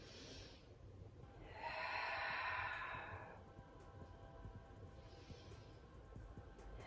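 Slow breathing while holding a yoga triangle pose: a soft exhale, then a longer, louder breath through the nose lasting about two seconds, and a faint third breath later, all close and quiet with no talking.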